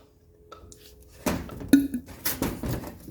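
A small tool turns the air-conditioning compressor on a 1985 Surf Wagon, giving a short burst of close, sharp metallic clinks and clanks that grow louder partway through.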